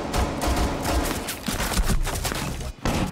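Rapid gunfire from a Rainbow Six Siege match, dense overlapping shots that run almost continuously for about three seconds and break off briefly near the end.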